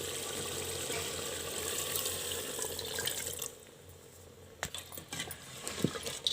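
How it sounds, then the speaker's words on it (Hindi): Water pours steadily in a continuous rushing stream into a cooking pot of chicken, then stops, leaving a few clinks and light handling noises. "चलिए इसमें पानी डाल देते हैं।"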